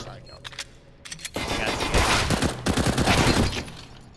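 Gunshots in the CS:GO video game: a few sharp single shots, then dense bursts of rapid gunfire that ring loudly through most of the stretch.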